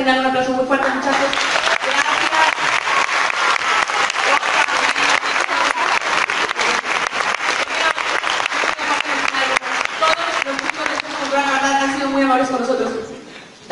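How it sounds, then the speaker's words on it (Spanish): A theatre audience at a 2018 Hairspray stage production in Ciudad Victoria gives long, dense applause, with cheering voices rising at the start and again near the end before it fades out. "Vamos a brindar un aplauso muy fuerte, muchachos"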